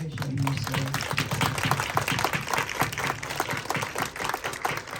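An audience at a film festival's reenactment community event applauds in a dense, steady wash of clapping that lasts the whole stretch, fairly close and loud, with a voice briefly audible at the start.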